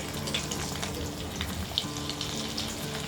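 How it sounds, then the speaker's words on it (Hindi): Finely chopped ginger hitting hot oil and butter in a pan, a steady close sizzle and crackle with small pops throughout, alone without talk. "ऑयल और बटर गर्म होने के बाद हम डालेंगे ये 1 इंच जिंजर"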